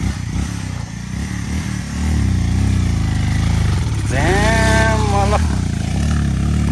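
A motorcycle climbs a rough trail through dense forest in rural Gulmi, Nepal. The engine drones loud and close, then labours harder and revs higher as it strains, with rattling clatter over the engine.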